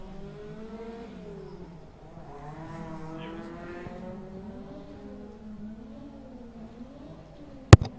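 A Ferrari Jetta race car speeds along the track at Killarney Raceway during a Power Series round, its engine droning and wavering in pitch as it revs, ending with a sharp click.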